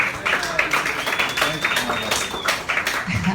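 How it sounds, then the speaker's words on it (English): Applause from a comedy-show audience, loose and uneven clapping with a cheer woven through it, fairly close and moderately loud, lasting the whole stretch. "Give yourselves a round of applause for coming out on a Tuesday night."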